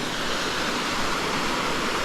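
A waterfall in cloudy, foggy hills near Manizales, Colombia, gives a steady, dense broadband rush that holds at an even level for the whole stretch, with no voices over it.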